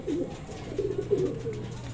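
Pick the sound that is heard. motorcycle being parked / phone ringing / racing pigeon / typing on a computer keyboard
racing pigeon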